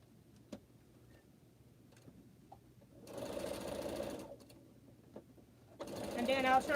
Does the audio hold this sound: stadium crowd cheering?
no